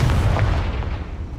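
A Confringo blasting spell explodes in Hogwarts Legacy with a heavy, booming burst that rumbles low and loud, then fades over about a second.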